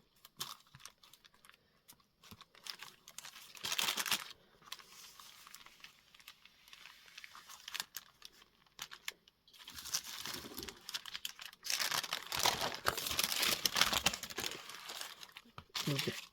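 Paper crinkles and rustles as pages of a vintage altered book are glued and flattened, with scattered close handling noises swelling into a longer, louder stretch of crinkling toward the end.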